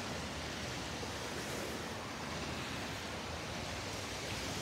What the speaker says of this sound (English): Be interesting with these little waves.